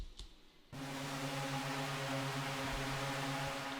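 A single kick drum sample in Ableton Live, drowned in reverb with the wet signal only, forms a sustained atmospheric techno texture: a dense, steady wash with a low droning hum after a brief quiet start.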